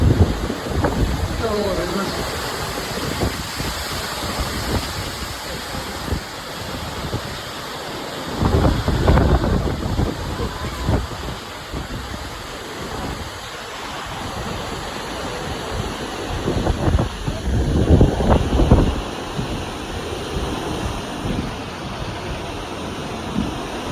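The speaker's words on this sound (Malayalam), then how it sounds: "കാറ്റും മഴ, ഭയങ്കര കാറ്റും മഴ." Strong wind roars and buffets the microphone in loud gusts at Kuttippuram railway station, with a steady wash like heavy rain underneath and brief voices.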